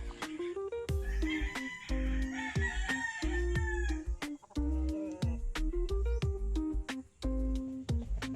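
A Raptor Sweater rooster crows loudly and close by in a run of repeated calls with short pauses between them, and no one talks over it.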